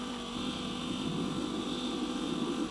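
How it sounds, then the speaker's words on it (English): A small pneumatic compressor for a fischertechnik model hand drones continuously with a steady low hum and a constant mechanical whir, unchanging and close, with no talking. "that's a noise coming from the compressor engine."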